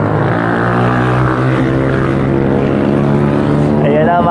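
A camera drone flying over a mountain road at Dalton Pass during a long bike ride, giving a loud, steady propeller whine and hum that carries continuously throughout, with a voice talking over it.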